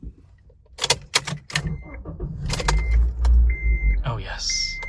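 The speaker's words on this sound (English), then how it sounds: "I'll go ahead and leave you guys with the start of the sound of this car." A 2005 Acura RSX Base being started with the key, with a few sharp metallic clicks and rattles first, then a low, steady engine rumble that builds and holds. A voice speaks near the end.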